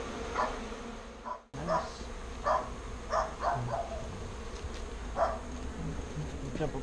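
Honey bees from a birdhouse rescue buzzing steadily and close, with individual bees droning past in brief louder swells; a short dropout interrupts the hum.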